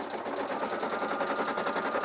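A Brother PE800 embroidery machine stitches a landscaping design, its needle hammering in a fast, steady mechanical rhythm, close and alone.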